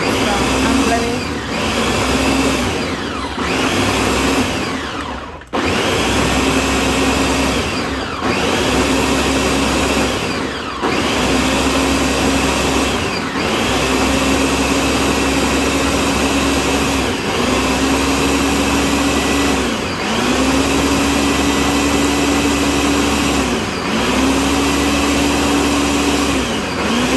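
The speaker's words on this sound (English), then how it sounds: "now I'm about to blend it together" A kitchen blender whirs through chopped onion and pepper, pulsing in repeated bursts with short pauses that let the motor pitch dip and climb again, loud and close, with a voice speaking briefly between runs.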